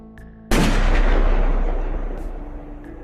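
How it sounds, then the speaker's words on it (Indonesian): A single loud, booming gunshot cracks out after a brief quiet, its heavy echo rolling away and slowly fading over the next few seconds. "Dan terdengar lagi suara tembakan."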